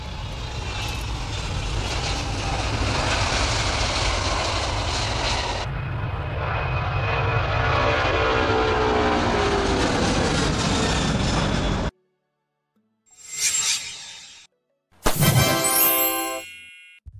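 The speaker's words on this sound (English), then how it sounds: "This is the Antonov An-225 Mriya, launched in 1988 in the Soviet Union" Antonov An-225 Mriya, the huge Soviet-built cargo plane launched in 1988, roars with a loud, sustained engine drone that shifts pitch midway, then cuts off, followed by brief metallic ringing bursts.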